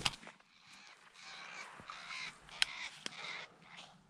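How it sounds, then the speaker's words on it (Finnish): Crow caws outdoors during a pigeon hunt: several hoarse caws repeat at a distance over steady wind-like ambience, with a couple of sharp clicks and no talk. "Ei kun varis."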